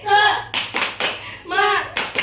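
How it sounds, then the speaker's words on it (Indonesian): A classroom 'tepuk semangat' clapping chant led by a pupil, with children's voices chanting in bursts between groups of rhythmic hand claps, close and lively. "Tepuk semangat."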